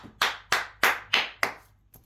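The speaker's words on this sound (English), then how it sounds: "Yes, I'm clapping." Five sharp hand claps in a steady, slightly slow rhythm, close and loud with a short trailing sixth clap, no talking over them.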